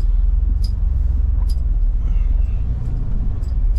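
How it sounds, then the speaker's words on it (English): A pickup truck reversing into a shop gives a steady, close, low engine rumble throughout, with a few faint higher clicks and no voices. "Right now, I'm just backing my truck up."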